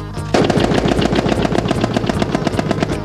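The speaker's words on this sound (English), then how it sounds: "The Browning automatic rifle." Browning automatic rifle firing a loud, sustained stream of rapid shots at close range, the reports running together almost without a break after a brief quiet start.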